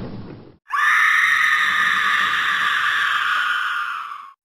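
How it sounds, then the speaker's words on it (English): A single loud, sustained high-pitched scream, close and unbroken for about four seconds, rising abruptly after a brief muffled noise and then tapering off. "Who the fork is screaming?"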